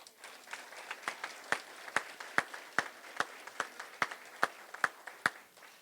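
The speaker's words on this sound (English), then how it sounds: "Let's give them a round of applause again, all the terrific kids." Sparse, fairly even handclaps from a small audience at a school ceremony honoring children. The claps are crisp and moderately close, with a thin, light texture and no voices over them.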